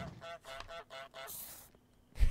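Goose honking in Untitled Goose Game, four quick nasal honks in a row, loud and close, followed by a short rustling noise.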